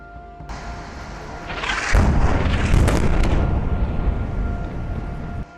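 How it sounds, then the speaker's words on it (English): Explosions from a bombardment destroy a residential tower in Gaza, a sudden deep boom that swells into a loud, sustained roar of rumbling debris and crackling bursts, fading slowly. "the Al-Shuruq residential tower in Gaza was destroyed in an Israeli bombardment"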